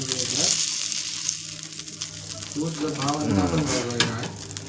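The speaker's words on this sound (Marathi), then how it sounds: "बांगडे मस्तपैकी भाजलेत बघा" Mackerel (bangda) fish roasting in a pan, giving a loud, continuous sizzle and crackle close up, with a voice talking over part of it.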